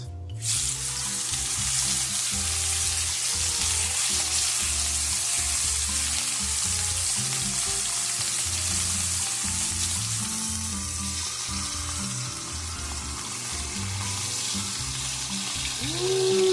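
Steak frying in a hot pan, a loud, steady sizzle that runs continuously and close up throughout, with no talking over it.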